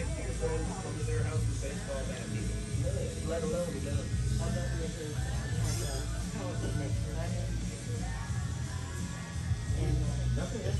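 A tattoo machine set up with a liner or shader runs in a steady electric buzz throughout, with a person talking over it.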